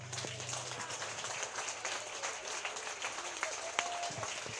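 A church congregation applauds during a Sunday worship service, a steady wash of clapping across the whole stretch, with faint tonal sounds and a brief sharp knock in the background.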